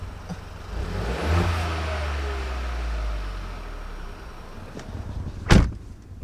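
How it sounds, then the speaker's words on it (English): Ford Fiesta Zetec S Black Edition fitted with a Cobra exhaust, heard with the car door open: a low engine rumble swells into a rev early on and holds steady, then a sharp brief knock near the end. "This is what it sounds like with the door open."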